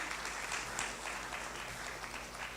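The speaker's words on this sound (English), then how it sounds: "An applause for Father as he comes to" Audience applause at a regional conference on care reform: a steady wash of many hands clapping together. It sounds faint and somewhat distant and stays even from start to finish.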